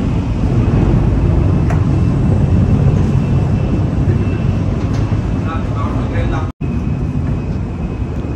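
A Japanese bullet train running at high speed between Tokyo and Shin-Osaka, heard from inside as a loud, steady, even rumble that fills the whole stretch, broken only by a brief gap near the end.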